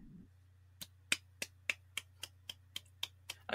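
Sharp, evenly spaced hand claps, about a dozen in a steady beat, ring out close and crisp over a low constant hum with no talking.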